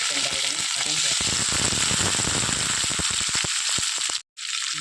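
Onion, green chillies and curry leaves fry in hot oil with a loud crackling sizzle and bursts of spattering, then a sudden brief silence near the end before the sizzle returns.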